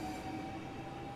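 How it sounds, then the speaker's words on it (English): A Southeastern high-speed train departs in the Train Sim World 5 game, a steady, dense rumble of wheels and motors with a faint tonal whine, continuous and close. "I'm gonna shut up and let you listen to the train"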